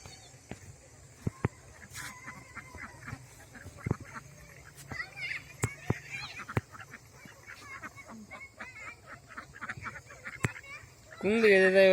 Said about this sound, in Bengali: কিরে হাঁসের দল, ভয় পালি?